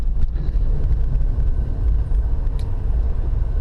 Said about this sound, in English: just driving to work this morning